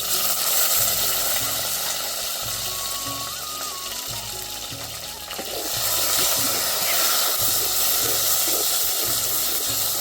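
Tomato dropped into hot oil tempered with dried red chilli, cumin and five-spice seeds, giving a steady broadband sizzle and hiss that dips briefly midway, then surges back loud and continuous with no talking.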